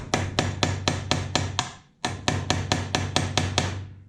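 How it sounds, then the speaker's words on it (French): A hammer taps lightly on a chain rivet to flare its end, giving two quick runs of about seven evenly spaced metallic strikes with a short pause between them, close and clear. "On n'a pas besoin de cogner très très fort là."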